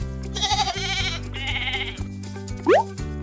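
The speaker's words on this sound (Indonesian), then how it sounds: "Ini domba." A sheep gives two wavering, nasal bleats over bright cartoon-style background music, and a rising whistle-like slide follows near the end.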